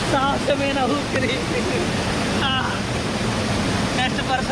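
Bahubali waterfall at Badigunta near Akuru roars in a constant, close wash of falling water, with a voice talking intermittently over the unbroken rush.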